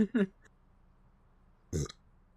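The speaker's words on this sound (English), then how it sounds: "And that's a big burp." A big, loud burp from a person gaming, a single voiced belch standing alone after a brief vocal sound, with quiet room tone between.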